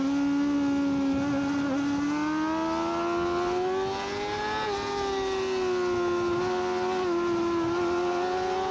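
A Yamaha R6 superbike races on a track in an amateur superbike race, its engine howling at high revs in a loud, sustained tone that rises and dips slightly with speed and gear changes.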